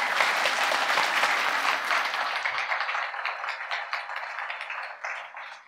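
Loud, dense applause from a comedy club audience greeting a film director, a full wash of clapping that gradually thins into scattered, more distinct claps toward the end.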